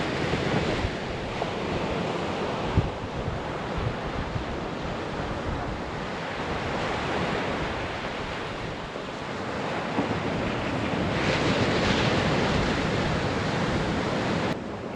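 Ocean surf rolls onto a coastline in a steady broad wash, swelling slightly toward the end, with wind buffeting the microphone and no voices.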